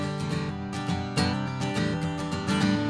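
Guitar strummed with a loosely held pick, producing soft, thin chord strokes in a steady rhythm that lack punch, close up with no voices.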